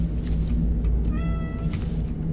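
A house cat lets out a single drawn-out meow over a steady background rumble, close and clear.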